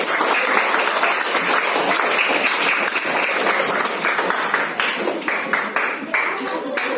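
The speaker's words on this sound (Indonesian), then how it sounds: "Tepuk tangan kita dulu." A classroom of pupils clapping in unison, loud and close, sustained at first and then breaking into sharper individual claps toward the end.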